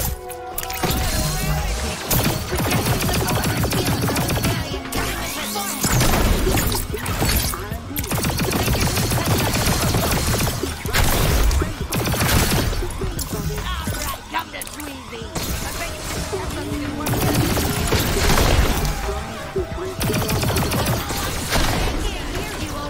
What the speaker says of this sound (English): This is like an SMG